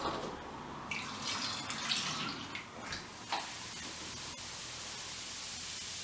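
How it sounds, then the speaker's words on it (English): Vinegar reaction foaming up through a funnel, giving a hissing fizz of bubbles that crackles unevenly at first and then settles into a steady, soft static-like hiss. "This creates carbon dioxide and water and a lot of bubbles"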